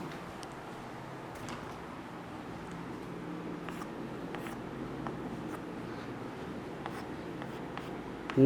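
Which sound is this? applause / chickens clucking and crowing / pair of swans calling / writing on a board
writing on a board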